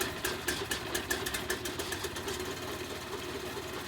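A Keene RC46DR rock crusher's small engine running after start-up, a steady rapid chugging idle with regular pulses, fairly close and alone with no talk.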